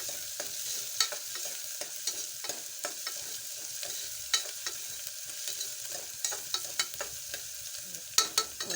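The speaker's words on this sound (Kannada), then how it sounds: "ಸ್ವಲ್ಪ ಕಜ್ಜಾಡ್ಸ್ತೀನಿ ರೀ ಉಳ್ಳಾಗಡ್ಡಿ" Onions frying in a pan for a Kannada-style carrot palya, with scattered clicks and scrapes of stirring over a steady, fairly quiet sizzle; no one speaks.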